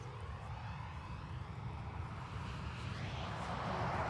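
A Ryanair jet departing Dublin Airport for Agadir, a broad low engine roar with wind-buffeted rumble that swells steadily louder toward the end.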